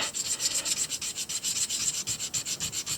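An echinoid fossil is rubbed back and forth on a multi-block polishing pad to remove sanding scratches, a close, loud, rapid rasping rhythm of steady strokes with no talking.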